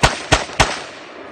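Three sharp gunshots fired outdoors on a cold night, evenly spaced about a third of a second apart, each loud and close with a short decaying echo.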